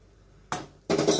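Hot water poured into a pan of sautéed sabudana khichdi: two bursts of broadband splashing and clatter, a short one then a louder, sustained pour, with no talking.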